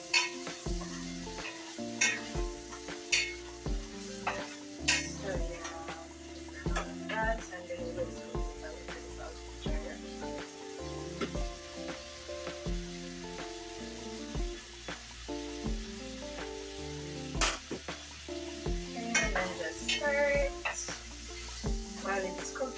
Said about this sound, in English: our seasonings are cooking down